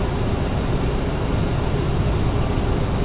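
A CRJ-900 regional jet in Microsoft Flight Simulator X, on a flight from Lubbock to Dallas-Fort Worth, gives a steady broadband engine roar that holds at an even level throughout, with no voices.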